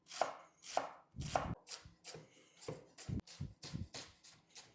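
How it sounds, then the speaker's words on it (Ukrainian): Rapid, steady knife strokes chopping red onion into small cubes on a cutting board, a dozen crisp close thuds in a quick rhythm. "Тепер нарізаю, друзі, одну четверту фіолетової цибульки, також дуже дрібним кубиком."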